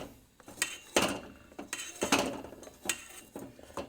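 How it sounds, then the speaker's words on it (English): Rubber spatula scraping around a bowl while egg whites are folded into an omelette batter, a series of soft scrapes and light clinks in an uneven rhythm, close and quiet with no voices. "Rounded side of the spatula is on the side of the bowl, so I scrape it every time."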